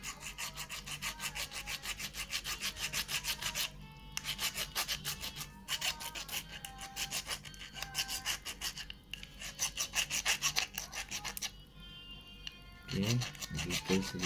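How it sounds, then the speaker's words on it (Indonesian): A metal file rasping across a car lock key, with fast, steady back-and-forth strokes close to the mic, repeated in bursts with brief pauses between them; someone speaks at points. "Oke, ini kikir ya sampai yang merata."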